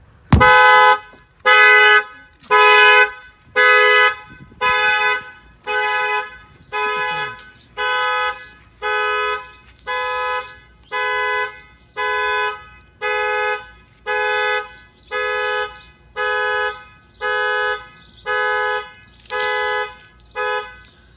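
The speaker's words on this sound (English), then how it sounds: "I'm gonna go ahead and pound on the window. The alarm should fire off" A 2018 Dodge Ram 2500's aftermarket car alarm blares a loud, steady sequence of electronic horn-like beeps, about twenty evenly spaced blasts repeating at a regular rhythm with short gaps between them.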